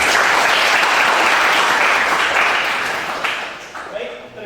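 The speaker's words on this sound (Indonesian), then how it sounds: "Tepuk tangan untuk semuanya." Loud, sustained applause from a group in a classroom at a light-vehicle engineering workshop, holding steady for several seconds, then tapering off near the end as a voice begins.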